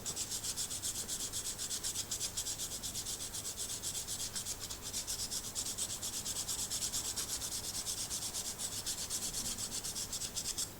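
Pastel pencils being sharpened by hand, giving a steady close scraping rasp that runs continuously with a rhythmic rubbing texture and no talk.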